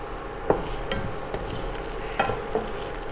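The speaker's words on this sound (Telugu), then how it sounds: "లైట్గా ఆయిల్ వేసుకొని కట్ చేసిన 10 పచ్చిమిర్చి, 4-5 మెంతులు వేసుకుందాం" Green chillies, fenugreek and mustard seeds fry in a little oil with a continuous close sizzle, punctuated by several distinct scraping clinks of a spoon stirring the pan.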